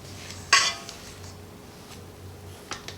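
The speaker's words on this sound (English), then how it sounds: "And just mix it one more time." Cream cheese frosting is mixed in a bowl, with a sharp metallic clink of a utensil against the bowl followed by soft, quieter scraping and a light tap near the end.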